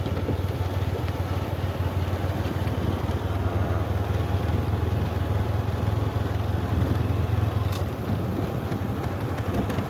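A motorcycle ridden at night, its engine giving a steady close drone with broadband road and wind rush that holds throughout, loud and unbroken, with no voices.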